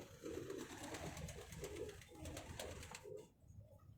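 A pigeon coos in repeated low rolling phrases, close and fairly clear, with a short pause near the end before one more soft coo.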